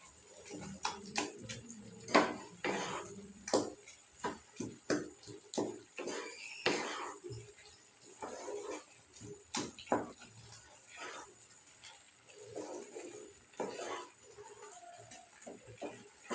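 Dried loitta fish frying and being stirred in oil in a pan, with irregular scraping and clattering strokes over a low sizzle, moderately close.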